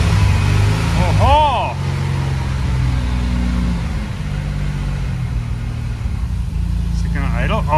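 Supercharged V6 engine in a Honda Civic settling into a steady, loud idle close by, a low droning hum with a brief revving whoop near the start, while people talk and exclaim over it.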